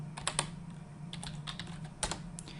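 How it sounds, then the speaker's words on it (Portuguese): Computer keyboard keys tapped while entering a terminal command, a few quick clusters of light clicks at close range over a steady low hum, no voices. "vamos fazer aqui CLS, vamos escrever PHP Artisan"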